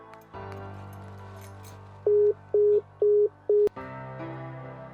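A phone line hum followed by four evenly spaced beeping tones, then an abrupt click as the call cuts off and the hum resumes.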